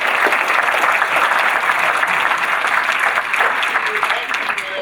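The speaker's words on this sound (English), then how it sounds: "please give our panel a round of applause." Conference audience giving the panel a sustained round of applause, a thick, steady clatter of many hands that holds level throughout with some faint voices mixed in.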